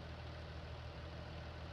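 A tractor engine idles in the video game Farming Simulator 19, a steady low rumbling drone that stays even and continuous with no talking over it.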